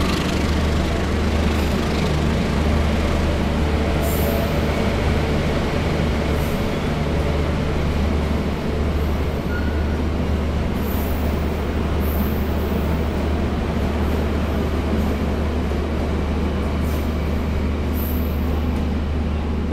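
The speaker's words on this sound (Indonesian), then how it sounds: "itu tadi barusan kereta api Mutiara Timur dengan tujuan akhir stasiun Ketapang di Banyuwangi" Mutiara Timur passenger train bound for Ketapang station in Banyuwangi rolling past, a continuous low rumble and clatter of wheels at steady volume with occasional higher squeals over the whole stretch.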